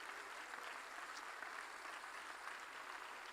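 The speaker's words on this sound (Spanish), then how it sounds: "Denle un aplauso al Señor Jesús." A church congregation applauding, a sustained wash of many hands clapping together at a moderate distance, fairly soft and even, with no clear voices.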